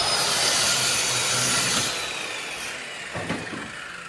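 A power tool cuts a scrap of 1/4-inch ABS plastic sheet while shaping a new seat pan for a chopped BMW motorcycle. The cutting is loud and steady for about two seconds, then softens and trails off into a few light scrapes.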